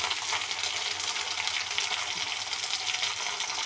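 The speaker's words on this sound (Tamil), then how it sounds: "டொமேட்டோ நல்லா ஃப்ரை பண்ணிக்கலாம்" Tomato and onion frying in a pan for cabbage palya, a steady bright sizzle with faint stirring, close and continuous with no voices.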